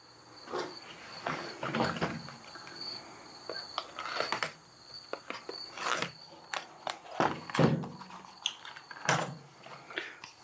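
Someone unpacks a combination wrench set with a foam insert, producing a run of scattered plastic rustles, clicks and sharp handling knocks close to the microphone.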